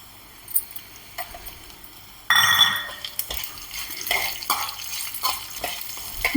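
Cashew nuts and raisins hitting hot oil for upma break into a sudden loud sizzle partway through, with spoon scrapes and stirring clinks continuing over the steady frying hiss.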